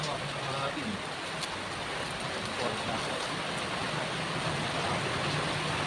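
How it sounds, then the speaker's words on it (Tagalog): Heavy rain falls steadily as a dense, continuous hiss with no letup, loud and close, filling the whole stretch with no other clear sounds. "grabe yung lakas ng ulan"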